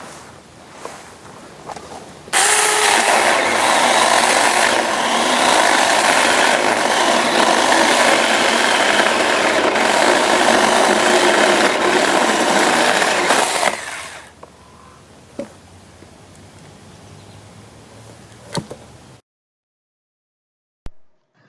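A SAKER mini chainsaw cuts through wood, its loud, steady buzzing whine running for about twelve seconds before stopping abruptly, followed by a few faint clicks and handling sounds.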